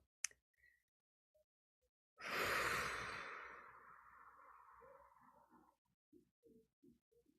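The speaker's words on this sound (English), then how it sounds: "I'm gonna take a 4 breaths." One deep breath is drawn in and then let out in a long, loud exhale that fades slowly over several seconds in a quiet room, followed by a few faint soft clicks.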